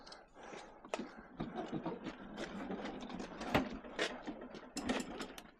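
A trolley loaded with scrap, including a washing machine, rattles and clatters along the street in irregular bursts of metallic knocks and squeaks, fairly faint with no voices.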